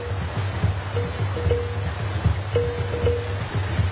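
Rushing water of the Yellow River with strong, violent currents, a continuous turbulent wash heard at moderate distance, steady and unbroken, with no voices.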